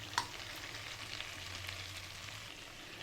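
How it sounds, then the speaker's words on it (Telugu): Cumin seeds frying in melted butter for a palak paneer curry, a soft even sizzle opening with a sharp tap, faint and steady over a low hum. "బటర్ కరిగిన తర్వాత 1 స్పూన్ జీలకర్ర వేసుకోండి."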